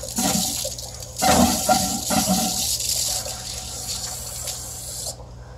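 Water rushes and gurgles through an aquarium python hose line with air trapped in it, a close, steady flow with brief louder surges before stopping abruptly.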